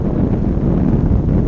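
Loud, continuous wind rushes across the microphone during a downhill stretch of a group bicycle ride, a steady low roar with no talk.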